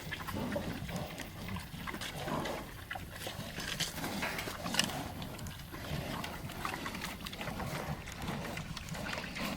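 Pigs grunting and snuffling continuously while eating, with steady low rustling and chewing noises, close by and fairly loud throughout.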